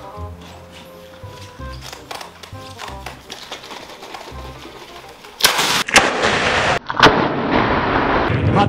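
An elephant toothpaste chemical reaction bursts: after quiet tapping and low thumps, a sudden loud whooshing eruption hits, then a second blast of sustained hissing rush that continues strongly to the end.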